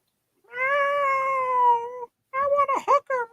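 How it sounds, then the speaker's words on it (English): A cat in heat lets out a long, drawn-out yowl, then a few shorter wavering cries after a brief pause, close by. "Fucking cat in heat."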